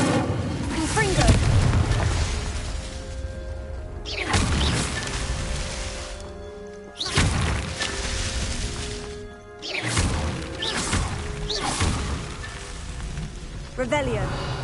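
Confringo blasting-spell explosions in the video game Hogwarts Legacy: four booming bursts spaced a few seconds apart, each with a sudden crack and a rumbling fade over a steady tonal background.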